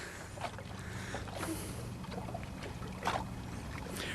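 A rowing boat moves along the River Thames near Henley, its oars dipping with soft, rhythmic splashes about once a second over a steady wash of flowing water.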